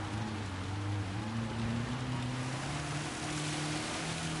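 Steady wet hiss of rain falling on the Spa-Francorchamps circuit in Gran Turismo 7, with a low engine drone humming beneath the constant spray throughout.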